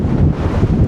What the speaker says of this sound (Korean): 바람 부니까 더 무서워.